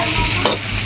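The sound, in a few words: stirring and frying tofu in a pan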